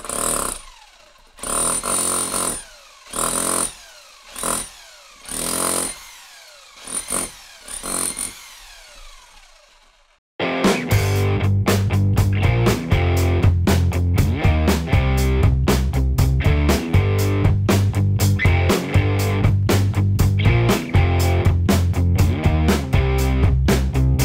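A chisel cuts an opening through a garage wall for a mini split line, heard first as loud, separate bursts of about a second each, then as a dense, unbroken grinding roar.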